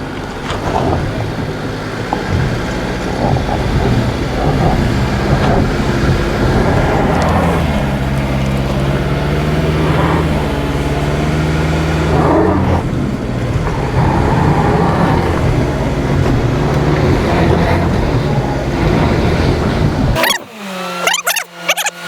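A Mazda CX-50 Meridian Edition at full throttle, stuck on a soft off-road hill, its engine roaring loud and steady for about twenty seconds with wavering pitch before cutting off abruptly.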